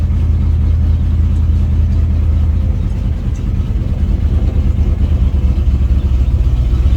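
A GMC Squarebody truck engine revving under load, a loud, deep continuous rumble close by that swells and strains slightly partway through, with no voices.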